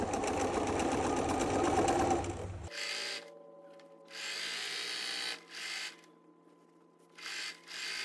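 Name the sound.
sewing machine sewing flannel rag quilt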